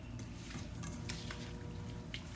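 Ginataang tulingan, fish simmering in coconut milk, is stirred in a pan, with soft scraping and sizzling under faint background noise; the sound is quiet and close.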